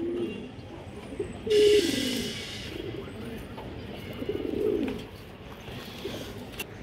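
A female pigeon coos in low, soft bursts near the start and again later, over a faint steady background hum with no talk.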